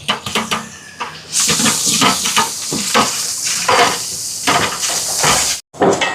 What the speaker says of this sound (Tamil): வெங்காயம் எல்லாம் வதங்கி வருது பாருங்க